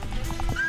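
Galloping horse hooves in SpongeBob Cosmic Shake, a short run of rhythmic clip-clop thuds over steady game background sound, with a faint whinny-like tone near the end.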